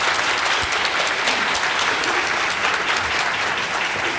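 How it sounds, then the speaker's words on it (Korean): An audience at a lecture on cancer immunotherapy and hyperthermia treatment claps steadily to welcome the speaker, a dense, even wash of applause filling the room with no voices. "큰 박수로 환영할게요."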